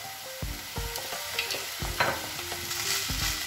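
Paneer fried rice, already dressed with vinegar, being stirred and fried in a pan, with a continuous sizzle broken by several spaced scraping strokes and clanks of the utensil, close and fairly loud.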